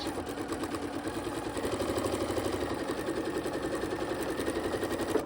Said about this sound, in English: I'm going to sew a 1/4 inch seam on it